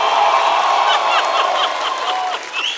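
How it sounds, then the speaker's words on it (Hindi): A studio audience at the Kapil Sharma Show claps loudly and steadily, with some cheering, to welcome guests Nora Fatehi and Guru Randhawa. The applause is dense and close, with no talking over it. "तो जोरदार तालियों के साथ स्वागत कीजिए"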